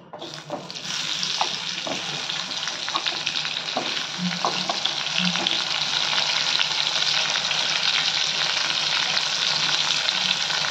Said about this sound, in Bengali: এবার কারকলগুলো নুন হলুদ মাখানো কারকলগুলোকে না ভেজে নেব।